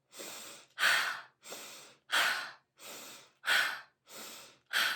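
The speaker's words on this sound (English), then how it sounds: "you're going forcefully in through your nose and forcefully out through your mouth" Eight strong breaths alternate in a steady rhythm: sharp sniffs in through the nose followed by loud, rushing exhales through the mouth, close and alone.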